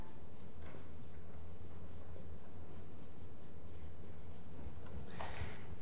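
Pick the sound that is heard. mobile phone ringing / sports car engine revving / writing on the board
writing on the board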